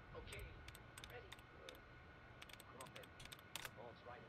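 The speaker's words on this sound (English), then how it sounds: "No worries, I never did this much typing in a game." Quiet keyboard typing on a computer terminal in Fallout: New Vegas, heard as a steady string of light, clicky keystrokes that repeat throughout over a low background hum.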